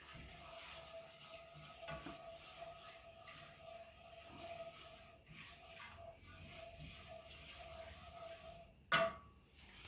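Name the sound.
roux cooking in a pan at medium heat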